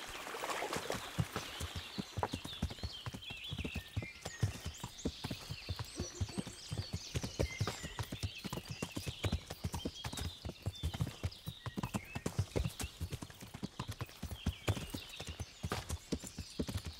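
Horse hooves clip-clop steadily on a hard surface throughout, a brisk even rhythm close by, with a horse whinnying near the start.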